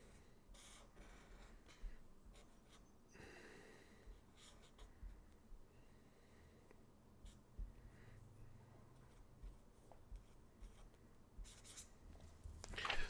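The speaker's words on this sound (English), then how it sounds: "I'm going to draw a G Fuel can." A marker scratching and squeaking across a surface while sketching a G Fuel can, faint close strokes in short bursts separated by brief pauses, quiet throughout.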